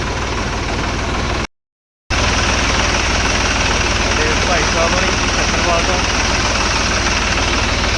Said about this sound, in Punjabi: ਬੈਠ ਗਏ ਆਪਾਂ ਟਰੈਕਟਰ ਤੇ